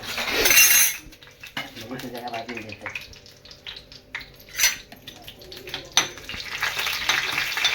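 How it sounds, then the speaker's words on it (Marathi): Chopped onion tipped into a hot pan while cooking a village-style country chicken curry in a Konkan home kitchen bursts into a loud sizzle, then settles into steady frying with utensil clinks and stirring as people talk nearby. "आता भाजल्यानंतर त्याच्यात कांदो घालायचा आवाज येतात"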